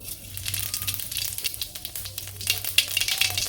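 Cumin seeds sizzling and crackling in hot oil in a village kitchen, a steady close-up fry with a broad hiss and small pops throughout, no talking.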